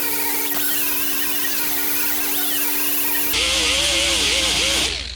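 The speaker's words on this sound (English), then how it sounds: "I would usually be using a flat disc on my grinder down there, but I had the cutoff wheel on it" A cutoff wheel on an angle grinder whines steadily against a Nissan 240SX fender during side marker hole repair, its pitch wavering as pressure changes, then shifting to a harsher, louder grind partway through before cutting off near the end.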